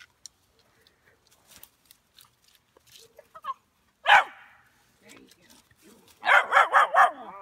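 Pups of a hound litter yip and bark in short bursts, one sharp yelp midway and a rapid cluster of barks near the end, with a person talking to them between the barks.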